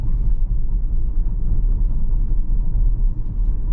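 A 2017 Tesla Model S Long Range Dual Motor drives along a rough, trench-like road, heard from inside as a loud, continuous low rumble of tires and suspension, with no voices.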